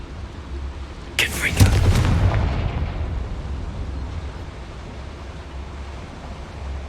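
A Confringo fire spell in Hogwarts Legacy bursts with a sharp crack and a booming blast, followed by a rumbling tail that fades over several seconds against steady game ambience, with a voice briefly heard.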